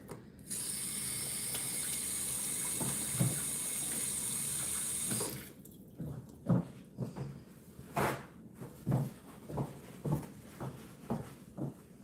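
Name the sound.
washing hands under a running tap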